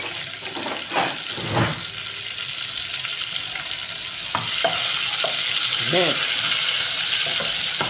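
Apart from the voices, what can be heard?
garlic frying in a pan for rice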